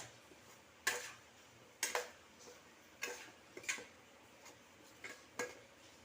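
Potatoes stirred into wheat flour masala in a pan, a series of sharp spoon taps and scrapes against the pan at irregular intervals, about eight distinct clicks over a quiet background.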